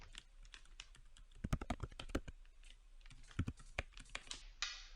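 Computer keyboard keys tapped in quick irregular bursts while a password is entered, close and fairly quiet, with short pauses between clusters of keystrokes.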